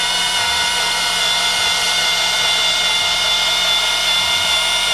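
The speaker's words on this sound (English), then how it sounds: "So we have our hole drilled." A steady, high-pitched whine of a power drill boring a hole in metal for a Sea-Doo 951 rave valve modification runs continuously and loudly, with no pauses or voices.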